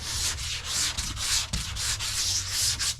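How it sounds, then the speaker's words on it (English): Steady back-and-forth strokes of sharp sandpaper on a block over the paint of a Sunbeam Rapier car, a rhythmic scratchy rasp repeating close up with no talking. "Nice bit of sanding paper, nice sharp bit of paper on the block, and I've just been sanding"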